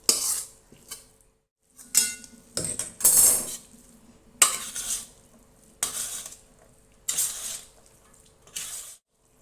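Sliced onion being sautéed and stirred in a pan for mango rice, heard as intermittent bursts of spoon scraping and stirring with a light sizzle between quiet gaps.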